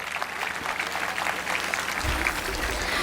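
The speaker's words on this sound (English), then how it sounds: "Everyone, please give a huge round of applause for Amit Tiwari sir." A school annual day audience applauds for a speaker with sustained, dense clapping throughout and a low rumble of crowd noise, steady and fairly loud.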